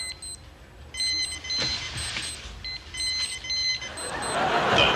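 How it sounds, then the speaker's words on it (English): A digital alarm watch gives repeated high electronic beeps in short patterned bursts over a noisy background in a comedy sketch, the rushing noise swelling toward the end. "The Digital Alarm Watch."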